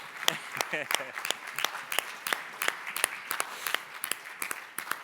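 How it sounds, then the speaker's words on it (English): Scattered audience applause from a product roadmap webinar: a thin, uneven run of separate sharp claps at a moderate level, no sustained crowd wash. "I want to applaud you all for your participation."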